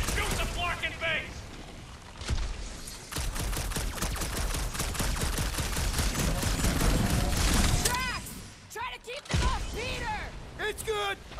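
Rapid gunfire in the Guardians of the Galaxy video game, aimed at a base held by cold rolled iridium clamps: long bursts of fast, regular shots rattle on loudly under raised voices and shouting.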